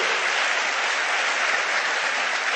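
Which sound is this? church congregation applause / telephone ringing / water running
church congregation applause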